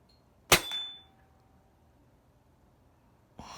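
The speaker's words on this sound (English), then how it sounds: "Shooting out of my bathroom window for one of my subscribers, Gunner85." A Zbroia Kozak .177 bullpup air rifle fires a single sharp crack with a brief metallic ring, shot from an indoor window, followed by quiet and the start of a second report at the end.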